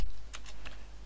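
A few quick keystrokes on a computer keyboard as a command is typed into a game server console, close and fairly quiet.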